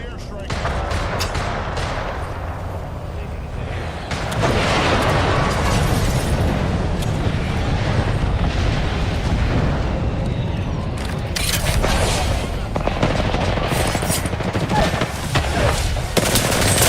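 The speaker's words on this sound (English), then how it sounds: "Calling the airstrike." Explosions from a called-in airstrike in a shooter game rumble and boom continuously over steady rapid gunfire, dense and loud throughout, with game voices talking over the din.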